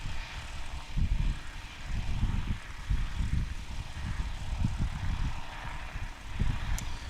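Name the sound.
STOL light airplane taking off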